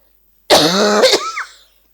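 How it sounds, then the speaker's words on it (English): One harsh, close cough breaks into a second rasping burst, ending in a brief throaty rattle, then silence. "I'm sorry for my coughing."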